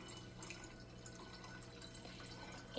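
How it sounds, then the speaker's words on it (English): Cold filtered water trickles and drips into a glass brewing jar while making kombucha, a faint, continuous liquid splashing with a slightly louder moment at the very end. "fill the glass brewing jar with 8 cups of cold filtered unchlorinated water"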